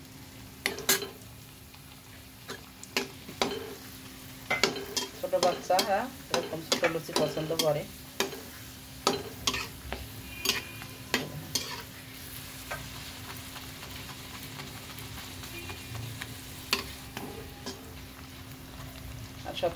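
Small puffed luchi puris frying in hot soybean oil in a wok, a steady sizzle with stirring clinks and scrapes, while someone talks over the cooking.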